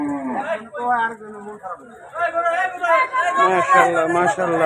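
Cattle at a traditional village livestock market low repeatedly with long, loud moos, close by, while people chatter over and between the calls.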